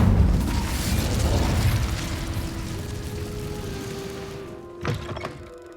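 Incendio fire spell cast in Hogwarts Legacy opens with a heavy, rumbling burst of flame that fades into a lingering crackle and hum, followed by a sharp magical pop near the end.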